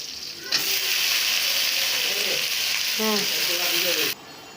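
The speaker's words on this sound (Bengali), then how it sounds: "ভাজা হয়ে গেছে শাকটা ভিতরে এখন দিয়ে দিলাম" Loud, steady sizzle of greens frying in a hot pan, with faint stirring scrapes partway through, cutting off abruptly near the end.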